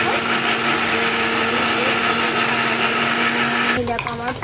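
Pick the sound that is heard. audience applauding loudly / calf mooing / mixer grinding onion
mixer grinding onion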